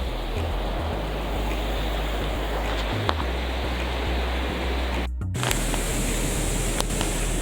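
Broad, steady rush of falling water at Linville Falls, North Carolina, a constant roar filling the whole clip with no break, close and loud, with a brief dropout near the middle.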